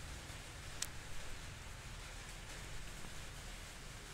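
Steady rain falling outdoors, a soft even hiss of drops with no distinct impacts, fairly faint and continuous throughout.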